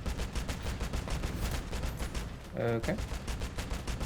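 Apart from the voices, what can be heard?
gunfire in Crossout video game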